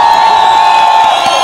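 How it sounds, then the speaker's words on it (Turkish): Loud crowd cheering and applause at an outdoor snow festival in Hakkari after a folk dance troupe's performance, a dense continuous roar with whoops and shouts. "Anadolu Ateşi'ne bir alkış rica ediyorum"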